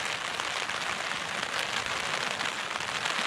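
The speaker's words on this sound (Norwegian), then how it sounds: "Det er regn." Steady rain falls outdoors near open water, a dense, continuous hiss of drops on the surface that stays even and close throughout, with no voices.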